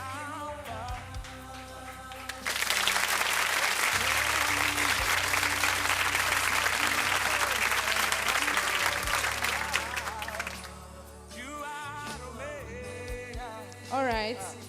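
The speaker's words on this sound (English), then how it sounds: "Please, a round of applause as she comes forward." Audience applause at an award ceremony, a dense burst of many hands clapping that starts after a few seconds of background music and carries on for about eight seconds, then thins out as music continues.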